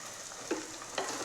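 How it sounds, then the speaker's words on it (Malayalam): Finely chopped shallots sizzle gently in a pan for a sardine roast, with soft stirring scrapes over a steady frying hiss, close and fairly quiet. "ചെറിയ ഉള്ളി ചെറുതായി അരിഞ്ഞെടുത്തിട്ടുണ്ട് ഞാൻ അത് നമുക്ക് ഇതിലേക്ക് ഇട്ട് കൊടുക്കാം"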